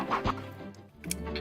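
Rooster clucking in the 102 Dalmatians: Puppies to the Rescue video game, a few short quiet game-sound clucks and ticks in quick succession with no talk.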